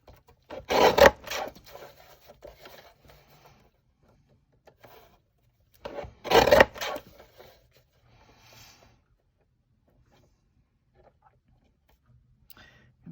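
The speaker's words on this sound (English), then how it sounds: "I'm going to grab my trimmer and trim off a little bit off of each side" A paper trimmer slices card stock in two short rasping strokes several seconds apart, close and dry, with faint handling noises between them in an otherwise quiet room.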